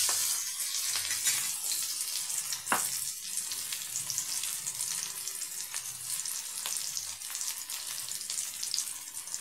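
Small sambar onions frying in oil for a pumpkin and soya chunk gravy make a continuous, close sizzle with scattered sharp pops and crackles throughout.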